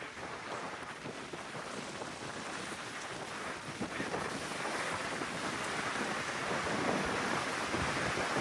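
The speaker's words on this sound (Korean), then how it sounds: "이렇게 파도가 치면은 배 못 가는 거 아니야?" Strong wind roars across the Jeju Island coast as heavy surf breaks, a dense continuous rushing with buffeting wind noise on the microphone, growing slightly louder with no voices.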